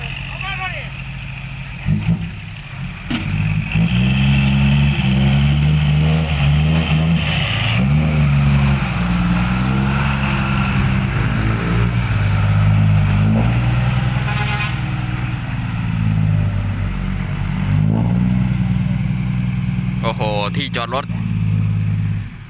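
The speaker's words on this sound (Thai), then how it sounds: "อ้าวอ้าวอยู่ไหมอยู่ไหมรถไถจะลงครับ" A farm tractor driving down into a muddy parking area during a Thai merit-making procession of decorated trucks, its engine droning loud and near with revving surges, under frequent talk and shouting, with a horn-like tone near the end.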